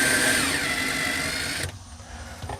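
A power drill backs screws out of a galley cabinet in a 2025 Deneb XT modular camper, a steady close whir that stops abruptly midway, leaving quieter handling noise and a faint brief restart.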